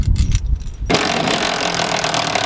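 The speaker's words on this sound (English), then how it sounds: "we're gonna take my Sawzall and cut notches out of the sides" A loud, steady reciprocating saw roar kicks in abruptly after a brief stretch of rustling and clatter, then runs continuously to the end as it cuts into a truck bed.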